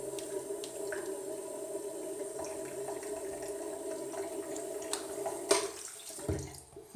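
A faucet runs steadily while someone rinses off after a shave, a soft continuous water stream with occasional splashes and clinks, ending with a brief louder splash.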